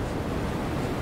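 Ocean waves wash against the coast in the farming game Harvest Moon: The Winds of Anthos, a steady unbroken surf and wind-like hiss with no distinct breaks, playing on its own without voices.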